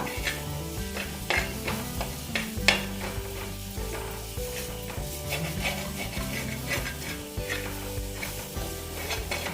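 Chilli and coriander frying in oil for a sardine curry, stirred with scraping strokes and a faint sizzle, partly buried under steady background music.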